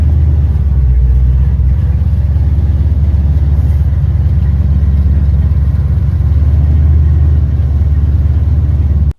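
Classic MoPar car engine rumbling loud and close as it is driven slowly into a garage, a steady low idle-like drone that cuts off abruptly at the end.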